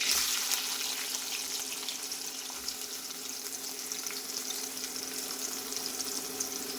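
Onion sizzles in hot oil in a pan with cumin seeds and curry leaves, a steady close crackling hiss that continues evenly without pause.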